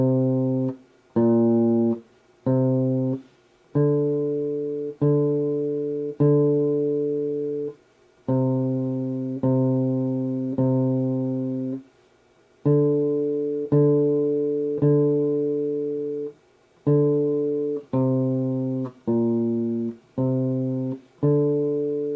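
Bass guitar plucking the simple melody of Mary Had a Little Lamb on three notes, clear, evenly spaced low notes in phrases with short pauses between them, played alone without talking.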